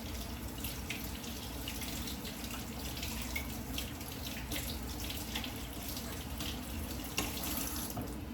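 Lentils and vegetables get washed under a running kitchen tap, with a steady, close rush of water into the sink and faint splashing throughout and no voice.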